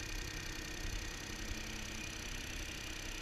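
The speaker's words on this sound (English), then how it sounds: "Ideally, a cold start is the best way for checking an engine." A car engine idles after a cold start, a steady, low hum running continuously with a faint high whine, no voices, even and unchanging throughout.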